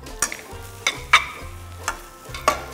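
Rice and noodles are stir-fried together in a pan, with a low sizzle beneath several separate scraping strokes of a spatula, close and clear.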